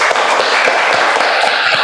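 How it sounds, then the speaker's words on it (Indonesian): Classroom applause from a group of students after presentations in an elementary science lesson, a steady dense patter of clapping filling the whole moment without pause. "Tepuk tangan dulu untuk kita semua"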